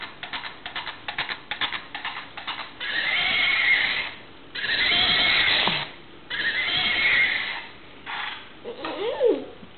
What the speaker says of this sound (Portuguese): É, Dindos, ele tá louco esse cavalo.